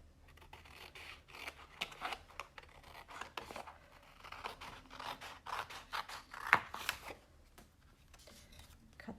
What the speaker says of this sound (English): And I'm gonna cut some hearts.